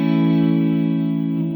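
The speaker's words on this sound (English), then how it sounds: "Swell fades in both wet and dry for a more intense effect" An Alexander Space Force reverb pedal set to Swell mode, with wet and dry signal fading in together, sustains a loud, steady, harmonically rich held tone with reverb wash that thins slightly near the end.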